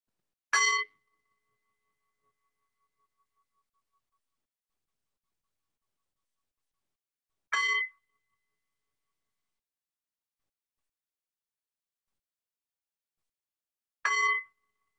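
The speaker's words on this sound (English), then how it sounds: "we'll begin with three bells" A meditation bell is struck three times, each clear ring spaced about seven seconds apart and fading quickly into silence.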